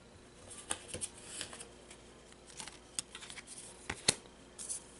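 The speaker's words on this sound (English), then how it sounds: "So I'll draw 2 more cards." Cards being drawn and handled during a tabletop game of Marvel Legendary, with soft shuffling and snapping clicks at irregular moments, fairly quiet and close, no talking.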